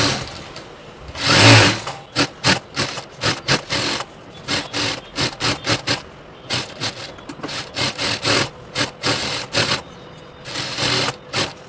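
Sewing machine stitching the folded quarter-inch hem of a full-sleeve gown, heard as a long run of short bursts of fast mechanical whirring with brief pauses, close and fairly loud, and no talk.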